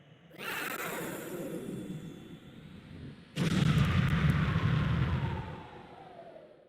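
Explosions from the Star Fox 64 video game as a boss's arms are shot off and blow up, a loud rumbling blast that swells and sustains, then a second sharper, heavier burst that rolls on and fades away.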